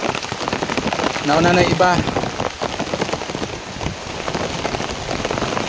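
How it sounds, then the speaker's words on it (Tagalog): Heavy rain pours down steadily in a rural province, a dense loud hiss drumming on surfaces throughout, with a person talking briefly under the downpour. "Sobrang lakas ng ulan"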